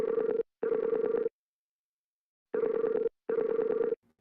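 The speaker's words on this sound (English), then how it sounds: "We got to wait for the phone to pick up." A telephone line ringing during a radio call-in show, two double rings, each a pair of buzzing tone bursts separated by a gap of silence, clear and alone.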